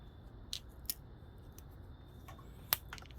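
Wire cutters snip through a rubber fuel hose during a carburetor build, a few short crisp clicks spread over a few seconds, close but quiet against a low background hum.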